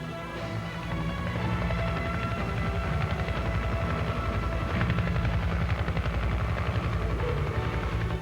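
Attack helicopters moving in toward their attack positions: steady, loud rotor thumping with a dense engine roar that fills the whole stretch, no voices.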